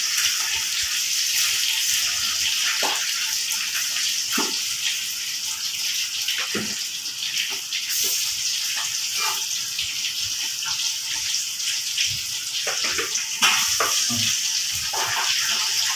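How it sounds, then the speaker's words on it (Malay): Catfish pieces sizzle and crackle steadily in hot oil in a pan, a loud continuous hiss with scattered pops throughout. "Masukkan ikan."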